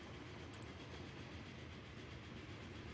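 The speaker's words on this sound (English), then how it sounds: "This train seems a little slow." Train running on rails in the video game Transport Fever, a faint, steady rolling rumble with continuous low clatter throughout, no voices.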